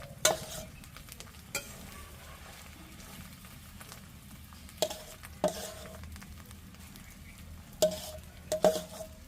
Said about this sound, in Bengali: জাস্ট 4-5 মিনিট নাড়াচাড়া করলেই হয়ে গেল